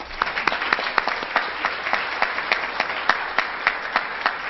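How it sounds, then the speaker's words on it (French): An audience at a nurses' association forum in New Brunswick applauds steadily, a dense, even patter of many hands clapping with regular sharper claps standing out, with no talk over it. "merci et applaudissons-nous"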